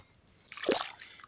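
A fish released back into a small stream makes one brief, soft splash of water midway through an otherwise quiet moment, with no talking.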